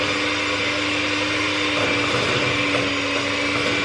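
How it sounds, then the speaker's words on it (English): An electric mixer creams butter for cake batter, giving a steady, loud motor whir with a constant hum that runs the whole time without pause and has no talk over it. "going to cream this together with our electric mixer"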